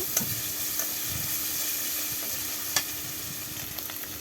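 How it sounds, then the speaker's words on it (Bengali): Chopped onion, green chili and spice paste fry in hot oil for a dried fish curry, a continuous close hiss with scattered crackles and stirring scrapes, no voices. "শুটকি মাছের তরকারি রান্নার জন্য গরম তেলে পেঁয়াজ কুচি কাঁচামরিচ কুচি সহ সব রকমের মশলা বাটা দিয়ে দিয়েছে।"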